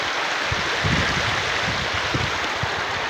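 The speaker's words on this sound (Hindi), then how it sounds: "माशाल्लाह बहुत पानी की स्पीड है" Fast-flowing floodwater rushing over flooded farm fields, a steady broadband roar with some low churning surges, continuous and fairly close, with no talking.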